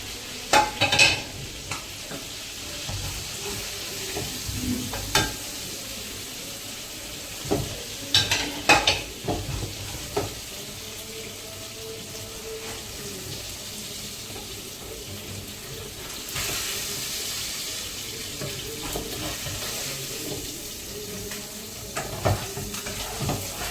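Oil sizzles steadily as karimeen (pearl spot fish) fries in a pan, with occasional scraping and clinking of a utensil against the pan.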